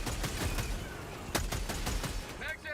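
Rapid automatic gunfire rattles in the video game Fallout, a dense burst of shots over a continuous noisy game soundscape.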